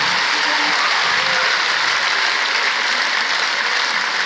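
An audience applauds award winners at a plenary session, with a dense, steady, loud wash of clapping that runs without a break.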